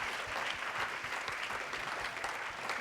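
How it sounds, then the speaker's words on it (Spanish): Steady, dense applause from a church congregation during a sermon, even and sustained throughout, moderately distant. "este aplauso es para ti."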